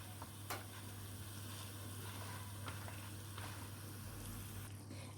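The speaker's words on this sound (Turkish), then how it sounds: "kıymamız kavrulmaya devam ediyor" 300 grams of minced meat browning over already-sautéed onions in a pan, a faint steady sizzle with a few soft stirring scrapes, no talking.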